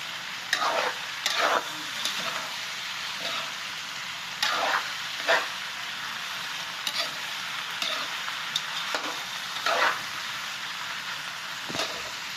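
Ingredients for dinuguan sauté in a pan with a steady close sizzle, broken by repeated scraping stirs at irregular intervals.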